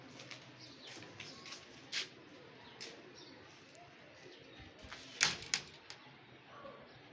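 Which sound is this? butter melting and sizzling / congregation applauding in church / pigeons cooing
pigeons cooing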